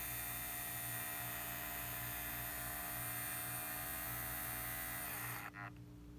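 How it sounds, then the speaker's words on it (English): A radio-controlled Lamborghini Cheetah model hums with a steady, dense electrical drone that fills the room. It holds unbroken for several seconds, then cuts off abruptly near the end. "You really hear it humming now that the heater turned off."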